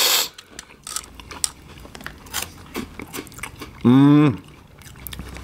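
Waffles with Texas Pete garlic hot sauce are eaten up close in a string of crisp bites and crunchy chews. A brief hummed murmur cuts in near the end.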